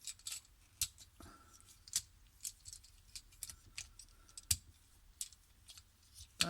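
Plastic Transformers toy parts, an Optimus Prime and Megatron Double Pretenders figure, give sharp small clicks and snaps as they are pegged together. The clicks come at irregular intervals, close up and fairly quiet.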